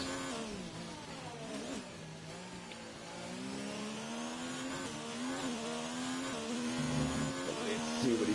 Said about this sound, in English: I still can't get used to this automatic gear sound.